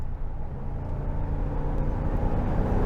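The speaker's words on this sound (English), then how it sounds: "I'm going to roll into it and accelerate like I would need to if I am going to pass somebody" 2022 Jeep Wagoneer with a 5.7L engine accelerating at highway speed, a steady low engine drone and road rumble heard from inside the cabin, building slightly over a few seconds.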